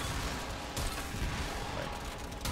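Dense, continuous gunfire and explosive blasts in the Warframe Elite Sanctuary Onslaught mode. The shots are rapid and overlapping, loud, with no quiet gaps between them.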